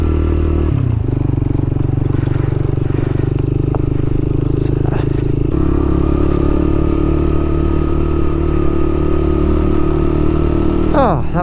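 A Suzuki VanVan RV125 motorcycle on the road gives a steady, loud engine drone throughout, with constant wind rush and a shift in engine tone about halfway through.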